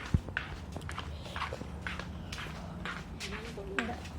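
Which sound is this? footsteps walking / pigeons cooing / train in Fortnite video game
footsteps walking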